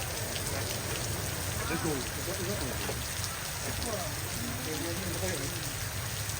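Rain falls steadily as a dense, even hiss throughout, with a voice speaking briefly over it and faint bird-like chirps in the background.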